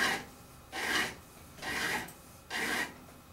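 A file bevels guitar fret ends in four slow, even rasping strokes, each about a third of a second long, separated by short pauses, close and fairly quiet.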